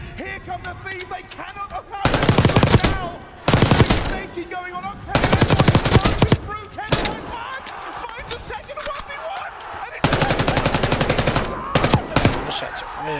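Bursts of automatic gunfire from a Call of Duty match in a CDL Major 2 Texas esports broadcast, loud repeated volleys separated by short gaps, with casters and crowd talking underneath.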